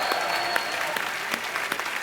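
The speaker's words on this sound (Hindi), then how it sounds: "प्लीज आप लोग तालियां बजा के इनका हौसला बढ़ाइए" A comedy show's studio audience applauds in a steady, dense burst of clapping, close and continuous throughout, with no voices over it.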